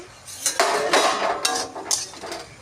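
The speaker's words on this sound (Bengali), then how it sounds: "ঢাকনাটা খুলে দিচ্ছি" A metal lid lifted off a cooking pot of pumpkin curry, a few sharp clanks and scraping clinks close by over about two seconds, with no voices.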